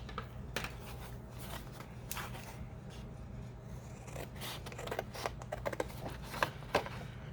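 Scissors cutting out a painted paper watercolor ephemera piece: soft, close snips and rustling paper, quiet and irregular, with a few sharper crisp cuts toward the end and no talking.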